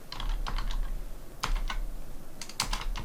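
Someone types on a computer keyboard while entering a scenario name in Excel 2016, producing quick, irregular clusters of close, crisp key clicks over a low background hum.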